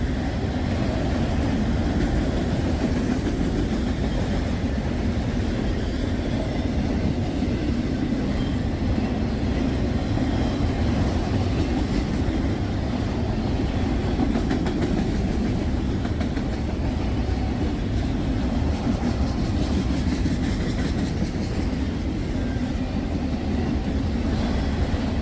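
A CSX freight train with a DPU locomotive rolls past steadily and nearby for the whole stretch, a continuous low rumble of rail cars and engine noise mixed with wind buffeting on a gusty day, with nobody talking.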